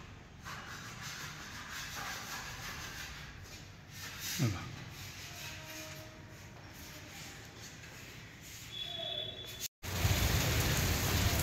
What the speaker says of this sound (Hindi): किती सुंदर पाऊस चालू आहे